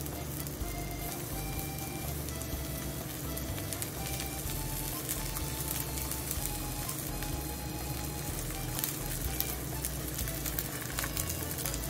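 Meat-stuffed zucchini gyoza frying over low heat in a lightly oiled pan, a steady soft sizzle and crackle running evenly throughout with occasional faint ticks and no talking.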